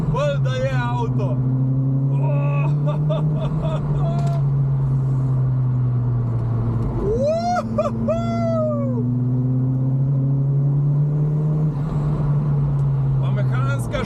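An old-school turbocharged car engine drones steadily from inside the cabin, loud and continuous with a low, even tone, while people talk over it throughout.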